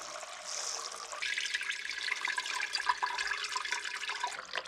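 Water running steadily from a tap, splashing and rushing over raw buckwheat groats being rinsed in a sink, close and continuous.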